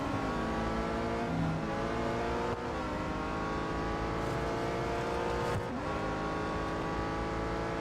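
Race car engine in the Real Racing 3 mobile game, a loud sustained roar with rising and falling revs and gear changes as it accelerates out of corners, no talking.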